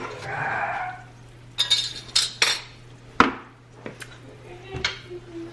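A utensil stirs soup in a pot with tomato paste just added, giving a few sharp metallic clinks and scrapes against the pot in an irregular rhythm, close and fairly loud.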